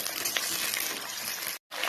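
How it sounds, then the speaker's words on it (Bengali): Eggplant and potatoes fry in hot oil in a pan, giving a steady, bright sizzle that stays fairly constant and breaks off for an instant before resuming. "তার সাথে আমি এখন বেগুনগুলি ভেজে নেব। সাথে আমি আলুগুলো দিয়ে দিয়েছি, এগুলি আমি লাল লাল করে ভেজে নিচ্ছি।"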